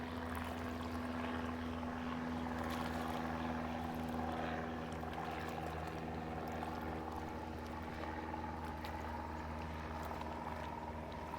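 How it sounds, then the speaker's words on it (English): A water taxi motor drones steadily near the Toronto Islands, a low humming engine with water rushing beneath it, continuous and fairly even throughout. "these are the private water taxis"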